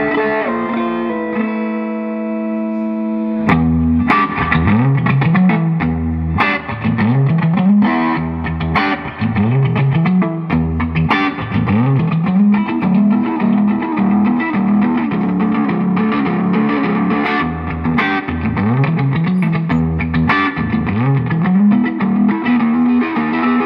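Warm overdriven Fender Stratocaster on the neck pickup, played continuously through a tube amplifier, with strummed chords and melodic runs ringing, loud and upfront with no talking.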